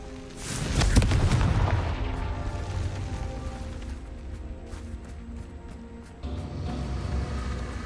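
In the Hogwarts Legacy video game, a Confringo explosive spell goes off as a single loud boom that decays into a rumbling tail, followed by quieter in-game ambience.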